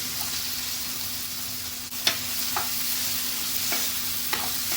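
Onions sizzling steadily in a pan, cooked until soft and translucent, with a few sharp scrapes of a spoon stirring them; no talking.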